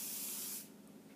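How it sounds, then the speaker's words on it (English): Hairspray hisses from an aerosol can onto hair in one light, close burst lasting just over half a second, then stops. "you can grab some hairspray and do a light little spray"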